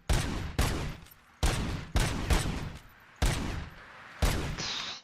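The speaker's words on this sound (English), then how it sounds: "the shotgun again." Six heavy shotgun blasts from RoboCop: Rogue City, each a loud close boom with a short decaying tail, fired at uneven intervals with no talking.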